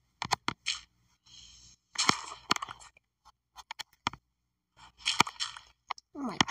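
Rapid bursts of block-breaking with a stone shovel in the Minecraft video game: quick clicky crunches in fast clusters, a few clean hits, no talk.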